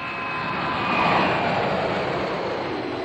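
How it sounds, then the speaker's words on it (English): Jet aircraft engines roar at an airport in a residential neighborhood, a steady, loud broadband rumble that swells slightly and then holds, with no other sounds over it. "The constant roar of jet engines disturbed its neighbors."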